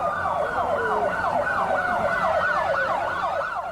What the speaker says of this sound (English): With sirens blaring and lights flashing, dozens of police cruisers raced through the downtown core.